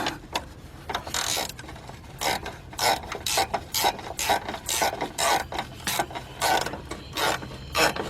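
A ratchet loosens the belt tensioner on a Nissan Maxima power steering pump, making repeated rasping, clicking strokes in an uneven rhythm, close and fairly clear with short pauses between bursts.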